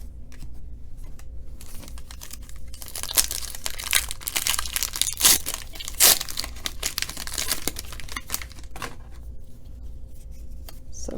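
Cellophane packs from a 2018 Panini football value box are torn open up close. Repeated crinkling and sharp tearing bursts build in the middle, then ease off, with no talking.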